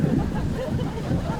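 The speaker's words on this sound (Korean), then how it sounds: "바람이 이 지경으로 불었었나요 아까부터?" Strong wind roars steadily across the microphone at an outdoor concert, a loud, close rumble with no break.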